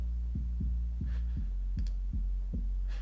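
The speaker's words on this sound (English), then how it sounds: "it just kind of enhances the harmonics of the 808 and brings it out in the mix a little bit more" 808 bass with enhanced harmonics in a mix, thudding in a steady rhythm of short booming hits over a low sustained hum, with faint clicks and no talking.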